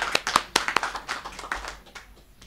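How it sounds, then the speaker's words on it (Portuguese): A church congregation breaks into a few scattered, sharp claps right after a prayer, isolated hand claps rather than full applause, fading out within a couple of seconds. "Vamos aplaudir o Senhor Jesus?"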